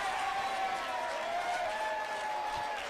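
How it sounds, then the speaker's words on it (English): Home supporters at a Canberra United versus Newcastle Jets women's football match cheer and applaud a free kick, a steady broad wash of crowd noise with a faint whistle-like tone running through it. "you can see here the home crowd happy to be awarded that free kick in a dangerous area"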